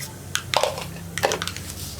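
Mustard and fenugreek seeds splutter in hot oil while tempering a Kerala pulissery moru curry, a few sharp crackling pops in short irregular bursts, close and fairly quiet.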